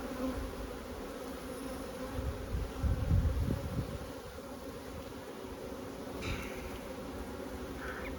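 Honey bees hum continuously around a hive in an outdoor apiary, a dense, even drone close by, with a slightly louder swell midway and no voices.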